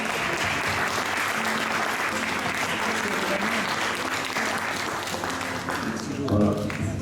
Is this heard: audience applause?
yes